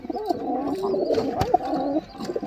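Green-headed crested pigeons at the Beldanga market coo softly and repeatedly up close, their low throaty calls running steadily with faint background bustle.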